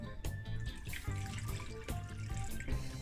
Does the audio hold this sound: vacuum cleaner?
no